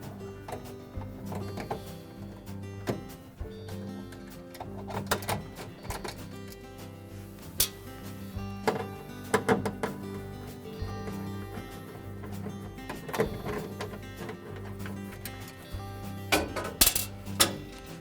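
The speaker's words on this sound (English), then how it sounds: "we need to take these two 1/4-inch hex head screws out at the front" Hex head screws on a Whirlpool refrigerator's control housing are driven out with a 1/4-inch driver, giving irregular light mechanical clicks and ticks over a steady low hum, close and fairly quiet.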